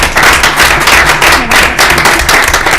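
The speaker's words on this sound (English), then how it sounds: "And round of applause" A round of applause at a school committee meeting, loud steady clapping from a room full of people continuing through the clip.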